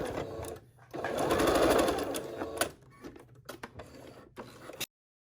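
A sewing machine back-stitches the fabric of a homemade filtered face mask, running in a loud, fast whir. Quick clicks and short mechanical bursts follow as the stitching stops and restarts.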